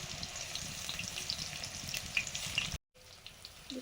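Washed straw mushrooms (pol chhatu) fry in a pan with a steady, close, crackling sizzle that runs almost unbroken apart from a brief cut near the end.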